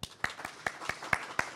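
Light applause from an audience at an elementary school Battle of the Books event, about seven distinct, fairly faint claps spaced unevenly over a quiet room.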